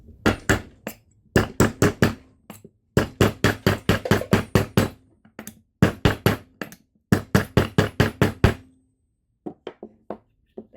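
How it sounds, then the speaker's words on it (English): A steel punch struck repeatedly with a hammer into a metal doming block while shaping metal, giving sharp, close, ringing knocks in quick bursts of four to eight blows with short pauses between, and no talk. "I'm going to take a big punch maybe not that big. Take this one and give it a hammer."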